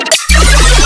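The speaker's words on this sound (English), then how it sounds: "I'm going to show you how to make weird snares that sound like this" A weird, beep-like synthetic snare drum hit, harsh and distorted with a buzzy tonal ring, arriving after a brief gap and sustaining loudly to the end; no voices.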